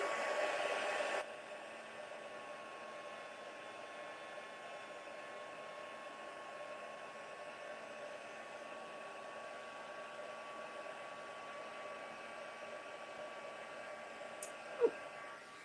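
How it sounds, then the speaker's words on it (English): A heat gun blasts a steady, even airflow hiss while melting embossing powder during card making at a home craft table, continuous and close for the whole stretch, with a brief louder burst at the very start and a small click near the end. "let's give this a quick zap"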